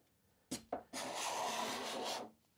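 Two quick scrapes followed by a long, steady rasping scrape of a card scraper shaving across sapele wood, close and alone.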